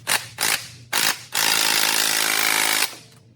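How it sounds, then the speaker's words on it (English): Tight 12mm bolts on an Acura MDX being worked loose with a ratchet: three short, loud mechanical bursts followed by one longer sustained grinding run, close and without talk. "I have to use a ratchet"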